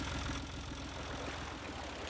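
A tractor engine idles in Farming Simulator 22, a steady low, even rumble with a faint knocking pulse that holds unchanged throughout at moderate volume.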